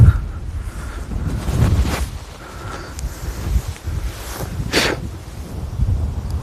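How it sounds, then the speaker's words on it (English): Strong wind buffets a microphone outdoors while camping in rainy coastal Ireland, producing low, rumbling gusts that swell and fade unevenly, with a few brief bursts of sharper noise. "it's windy as fuck here"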